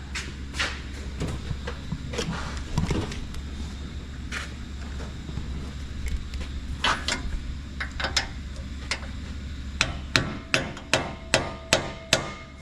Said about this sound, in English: I stick the socket on there and just tap it down in